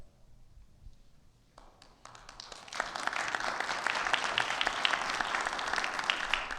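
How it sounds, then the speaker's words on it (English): Audience applause at a talk on SEC disclosure legal issues: a few scattered claps at first, then building into sustained, dense clapping from a full room, steady and fairly loud to the end. "Hey, thank you for the applause,"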